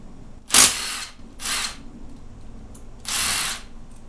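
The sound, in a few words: power tool removing 10 mm engine case bolts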